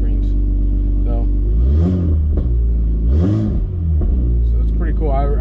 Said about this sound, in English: I'm not moving, I'm just idling right now